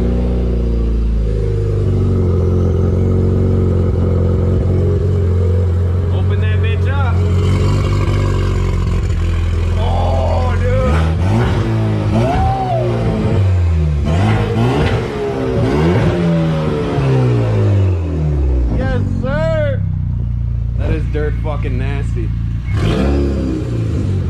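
A car engine revs repeatedly through a newly installed exhaust switch, rising and falling in loud surges over a steady idle rumble, while people talk over it.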